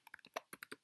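Quick, close clicks of a computer keyboard, about nine crisp keystrokes in under a second with a final key press at the end.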